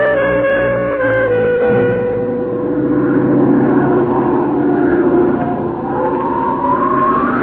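Propeller drone of military transport planes in flight at night, carrying paratroopers, a steady loud engine roar with shifting tones filling the whole stretch.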